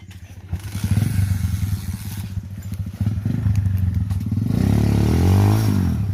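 A dirt motorcycle labors along a lava trail during an enduro ride, its engine buzzing steadily and loudly while clattering and scraping over rough ground, the revs climbing toward the end.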